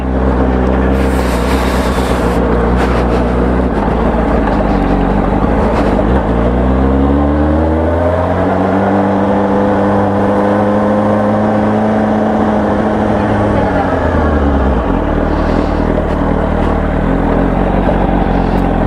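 A loud Suzuki GSR 600 motorcycle engine drones steadily throughout, its pitch sweeping up and down as the rider revs and shifts, with wind noise rushing over it.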